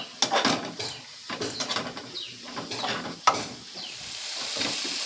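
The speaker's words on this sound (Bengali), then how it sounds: "সব মশলাগুলোকে একসঙ্গে কষিয়ে নিতে হবে।" A spice mix of ground cumin and other spices fries over raised heat while a utensil stirs it, producing bursts of sizzling and scraping with clinks against the pan and short pauses between strokes.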